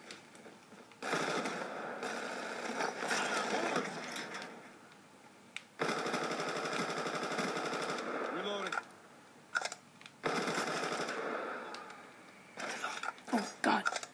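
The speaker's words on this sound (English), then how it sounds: "Pull out the AN-94 for a long-range kill." Rapid automatic AN-94 rifle fire in the shooter Black Ops 2, sustained bursts with short pauses and game effects, under a player's talk.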